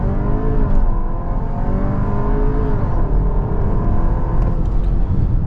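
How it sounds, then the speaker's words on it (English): A VW Tayron with a 2.0 TSI engine accelerates hard from a launch-control start, a loud sustained engine roar climbing in pitch through the gears with tire and wind whir, no talk. "Left foot on the brake, right foot on the throttle, launch control is activated,"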